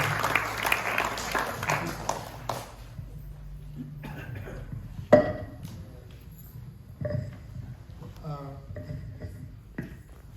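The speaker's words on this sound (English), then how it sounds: "Is that a round of applause, please?" A brief round of audience applause at a South Asian Heritage event in Wales: dense clapping for about two seconds that cuts off, followed by a quieter room with someone speaking and scattered small noises.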